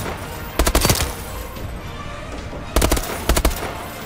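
M16 rifle fire in a Call of Duty match, heard as three loud bursts of rapid automatic shots, one early and two later, over faint game background noise.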